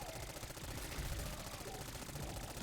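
Gunfire in the video game Black Ops 6 Zombies rattles as dense, continuous rapid shots under faint background noise, steady throughout with no clear pause.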